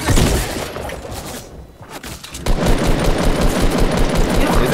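Loud, sustained bursts of rapid automatic gunfire in Fortnite squad gameplay, dense and continuous, with a short lull in the middle before the firing resumes at full intensity.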